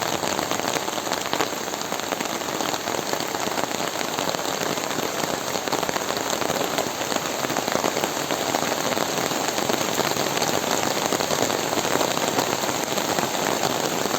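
Heavy rain pours steadily on surfaces in a rural village in Ciamis, a dense, even hiss that runs unbroken throughout with no talk.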